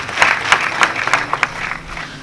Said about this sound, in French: si vous voulez bien applaudir tout le conseil municipal